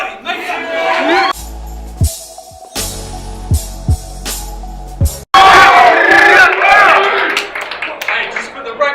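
Crowd at a rap battle event cheering and shouting, with bursts of noise around a host's voice and loud sustained cheering after a brief break.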